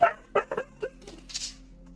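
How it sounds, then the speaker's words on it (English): Dogs bark in the background indoors: a handful of sharp barks and yips come in quick, uneven bursts, then trail off into fainter whimpering noises. "Dogs going crazy in the background."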